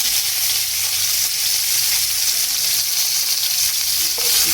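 Chopped onions and cumin seeds frying in hot oil in a pan, a dense steady sizzle with faint stirring scrapes, close and continuous with no talk.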